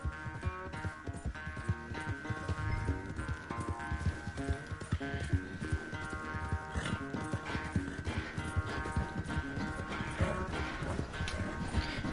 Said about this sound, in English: I have the fast horse in the game.